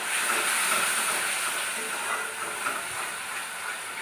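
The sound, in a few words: powdered spices (turmeric, cumin, coriander, chili) sizzling while frying in pan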